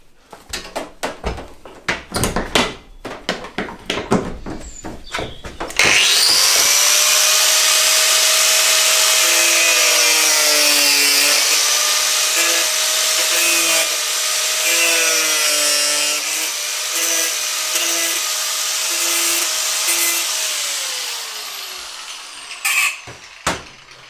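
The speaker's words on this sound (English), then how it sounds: "Bit of fettling, grind it out." Motorcycle part for a Honda CBR125R race bike being fettled, first a series of sharp knocks, then a loud sustained grinder whine with shifting pitch for about fifteen seconds before winding down.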